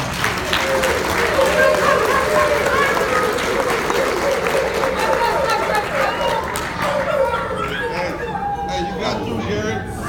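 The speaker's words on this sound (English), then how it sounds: "Let's give them a round of applause." Audience applause at a keynote speaking event, a steady round of clapping with crowd chatter, cheering voices and some children's voices mixed in, sustained and loud for about ten seconds.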